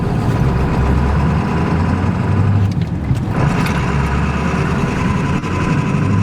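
A tuned Ford F-250 truck engine runs and revs close by, a loud heavy low rumble that dips briefly midway and climbs again, with no talk.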